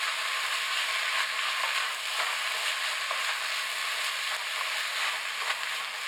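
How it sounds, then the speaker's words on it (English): Seasoned ground beef for chili sizzling in a pan as it is stirred, a dense, even crackle and hiss throughout with faint scraping, no voices. "Now just stir it together. Let the season mix with the ground beef."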